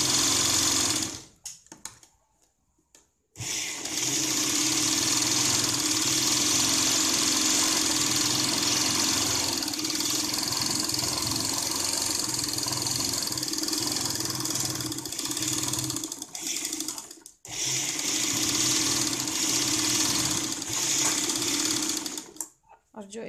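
A sewing machine stitches a blouse lining in one long continuous run after a brief start, steady and close, with a short pause near the end before it resumes.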